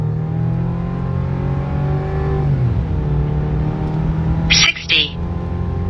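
A 2025 GMC Canyon pickup with a 2.7L four-cylinder engine accelerates hard from 0 to 60, its steady engine drone rising and dipping through a gear change, with a brief sharp burst of higher noise near the end.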